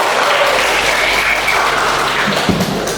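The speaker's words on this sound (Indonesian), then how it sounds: "tepuk tangan dulu untuk Angel" A school class applauds a student during a teaching practice lesson, a dense burst of clapping that fills the whole moment, loud and close, with no distinct voices.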